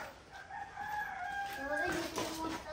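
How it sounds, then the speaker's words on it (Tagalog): A rooster crows close by, a drawn-out wavering call over faint background murmur. "Huliin mo yung isang manok na nakawala."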